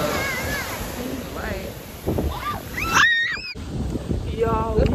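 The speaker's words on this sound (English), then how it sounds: "y'all cannot see the waves behind me, but... yes, we're right by the water" Ocean surf washing onto a beach on the Fourth of July, a steady broadband rush with wind buffeting the microphone and nearby voices talking and calling out over it.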